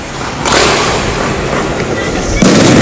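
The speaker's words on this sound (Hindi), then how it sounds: "इतनी ज़बरदस्त आतिशबाजी हो रही है ना कि" Fireworks bursting during a 14 August Independence Day celebration in Pakistan, heard outdoors as a dense, continuous crackle with louder booms at the start and near the end.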